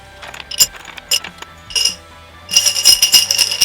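Glass jars full of screws clink and rattle as they are set down and put away in a storage room, sharp close clinks at first, then a denser jangling burst toward the end.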